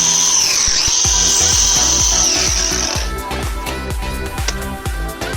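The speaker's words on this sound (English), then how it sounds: "the rest of the profile I will then contour with an 80 grit flat disc on a grinder" An angle grinder fitted with an 80 grit flat disc contours a wooden baseboard: a high whine with abrasive scraping, then repeated rhythmic sanding passes, close and loud with no talking.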